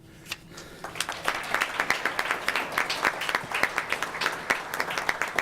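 A graduation ceremony audience applauds the graduates in a dense, sustained round of many clapping hands that builds quickly after a brief quiet start and carries on evenly, heard from within the crowd.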